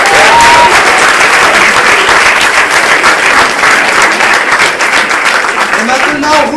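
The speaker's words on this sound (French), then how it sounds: "Vous pouvez vous applaudir" Loud, sustained audience applause at a French university debate contest between Assas and Aix-Marseille, a thick continuous roar of clapping with voices and cheers mixed in throughout.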